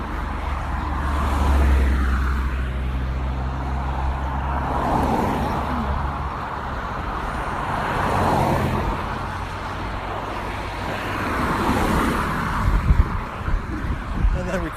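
Cars pass by on Station Road as a steady traffic hum with slow swells of approaching and receding vehicles, heard outdoors with wind buffeting and occasional speech over it.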